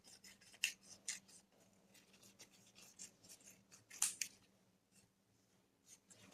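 Scissors snip through decorative book-page paper, trimming away the white margins in a quiet series of short, crisp cuts with brief pauses between them, with a few louder snips standing out.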